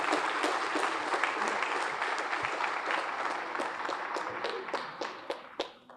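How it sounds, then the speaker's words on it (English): Applause from a banquet crowd at a firefighters' awards dinner, a dense, steady wash of many hands clapping that thins toward the end into scattered, sharper individual claps. "How about another round of applause for Lieutenant Joe A."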